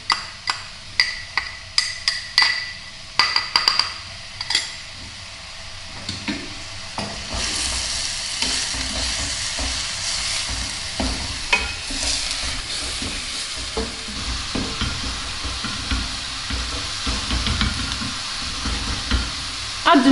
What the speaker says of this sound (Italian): Dopo aver messo i 2 cucchiai di olio mettiamo la cipolla